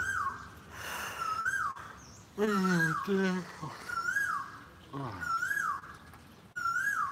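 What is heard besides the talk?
bird calling by a pool in Thailand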